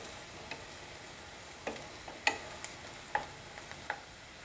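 Onion sautéing in a pan for chicken kheema, heard as a faint, quiet sizzle with scattered soft stirring clicks and taps, no voices.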